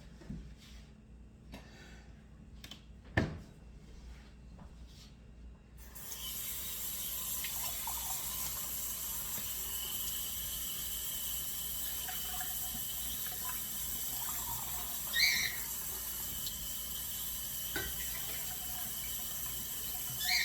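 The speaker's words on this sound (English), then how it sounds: "we're going to add 3 cups of water" Water pours steadily into a cooking pot for three cups' worth, starting after a few seconds of quiet room sound with a single knock, then a continuous, close, splashing stream with small gurgles and bubbles.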